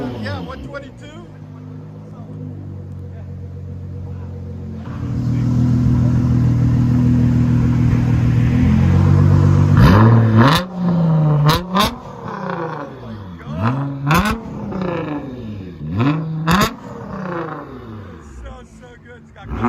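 A Nissan GT-R with a 3.8L twin-turbo engine, custom wheels and a straight-pipe exhaust idles loudly, then revs hard in repeated sharp blips that rise and fall. Talk is heard over the opening idle.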